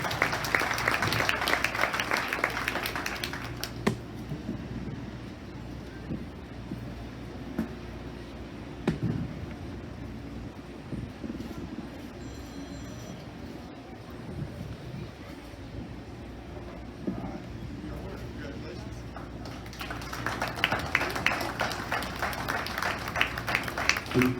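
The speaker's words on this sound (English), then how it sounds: "Let's give him a big round of applause" A crowd applauds in the show arena at a county fair beef show, bursts of clapping at the start and end with a quieter stretch between, moderately distant in a large space.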